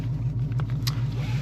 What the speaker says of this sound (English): let's go ahead and drive around a little bit, just see how the car performs